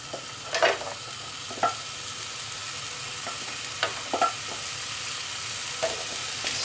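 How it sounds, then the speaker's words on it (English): Carrots sautéing in a hot pan with a stray bit of onion, giving a steady sizzle punctuated by several sharp spatula scrapes and taps against the pan. "Saute the carrots a little bit just so they start off the cooking process"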